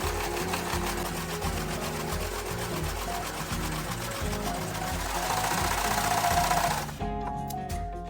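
Overlock serger sewing machine stitching fabric, a loud rapid mechanical chatter that runs steadily before stopping abruptly near the end, followed by faint clicks.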